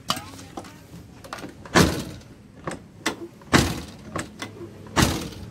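Several solid door thunks at irregular intervals, a Suzuki Esteem car door being opened and shut repeatedly, each with a short rattle, fairly close.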